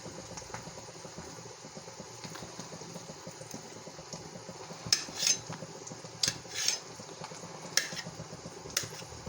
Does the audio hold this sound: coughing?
no